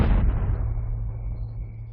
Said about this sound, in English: After the last explosives are detonated,